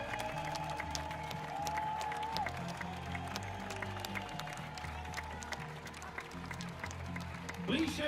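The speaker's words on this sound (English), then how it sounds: "The applause rings loud for Valentin Popper." Crowd applause and cheering roll on steadily as a runner finishes the 1500 metres at an Invictus Games track race, with a commentator speaking over the clapping throughout.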